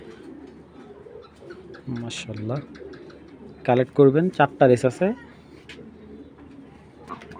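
Racing pigeons coo close by in a burst of several throaty, pulsing calls, set between stretches of someone speaking.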